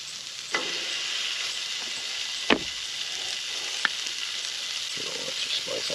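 Seasoned steak frying on a cast iron pan outdoors by a lake, giving a steady close hiss and crackle with a few sharp pops and spits along the way.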